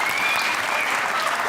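Sustained audience applause at a Geo comedy show, dense and steady throughout with no pauses, a crowd clapping together at close range.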